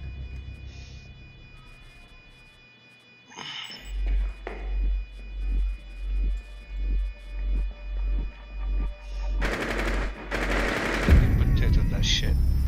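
Gunfire in Rainbow Six Siege on the Burnt Horizon map: a rapid string of about ten evenly spaced close shots pounds out, then a denser, louder automatic burst and sharp blasts at the end, with no talk over it.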